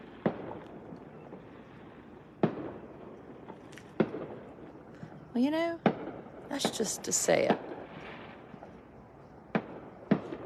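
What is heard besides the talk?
distant fireworks exploding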